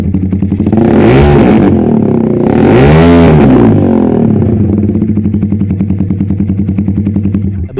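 Motorstar C200S sports bike with an SC Project open exhaust, loud and close, revving hard twice with rising and falling roars before settling into a rough, rapping idle.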